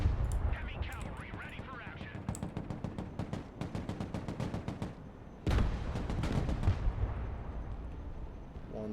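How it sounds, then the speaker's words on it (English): A tank in the video game Broken Arrow, set in a war in the Baltic, fires amid rapid rattling gunfire. About halfway through comes a single loud, heavy blast that rolls off into a rumbling decay. "Need to fire our gun."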